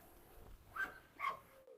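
A Doberman gives two sharp, close barks about half a second apart during a fight between dogs, with a faint whine trailing after.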